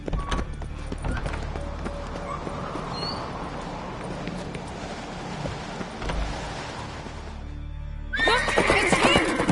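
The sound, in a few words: horse neighing in the video game Witcher 3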